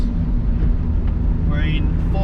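Toyota Landcruiser 1HZ 4.2 litre six-cylinder turbo diesel accelerating in fourth gear with a high-mount turbo, a steady loud engine drone and rumble from inside the cab with someone talking over it.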